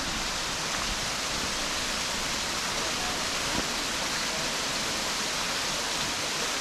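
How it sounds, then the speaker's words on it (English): A waterfall on Tom's Branch pours into a creek along the Deep Creek Trail in the Great Smoky Mountains near Bryson City, North Carolina: a constant, dense rushing hiss that stays unbroken throughout. "It's a pretty nice waterfall."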